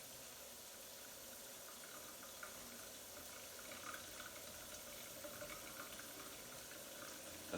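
Hot water from cooking radiatore pasta is poured into a kitchen sink with the cold tap running, making a faint, steady rushing and splashing stream throughout.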